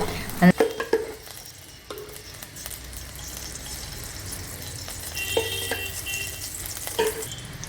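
Ghee sizzles softly in a pan that was just used to roast cashews and coconut, a quiet steady fry with a few sharp clinks of a utensil near the start and end.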